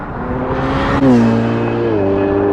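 A Corsa accelerating hard in a street run against a Ferrari, engine note rising steadily, dipping at a gear change near the midpoint and climbing again, loud and close with no talking.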